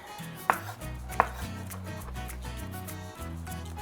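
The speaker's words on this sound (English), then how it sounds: "You're just going to slice up some olives." Knife slicing pitted Kalamata olives on a cutting board, a few sharp taps of the blade hitting the board among soft, close, steady cutting sounds.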